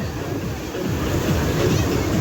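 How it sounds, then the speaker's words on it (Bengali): Rough ocean waves roll and crash at Udaipur beach near Digha, making a dense, continuous roar that swells toward the end and is mixed with wind rumble on the microphone. "দারুণ লাগছে যখন ঢেউগুলো এসে"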